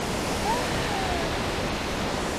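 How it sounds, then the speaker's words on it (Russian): The Rioni river rushes and churns below a cliff in Kutaisi, a loud, steady wash of turbulent water filling the whole stretch with no break. "здесь справа от меня сразу же такой обрыв, где эта вода бурлит"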